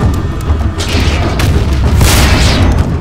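Booming mortar fire and explosions in a cartoon tank battle, loud and continuous, with heavy low rumble and bursts across the whole stretch.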